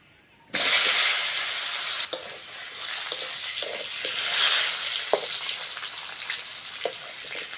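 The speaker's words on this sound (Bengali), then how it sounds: "কেটে ধুয়ে রাখা আলুটা দিয়ে দেবো।" Cut, washed potatoes drop into hot oil tempered with five-spice seeds, setting off a sudden loud sizzle that keeps hissing, with scattered utensil knocks and scrapes as they are stirred.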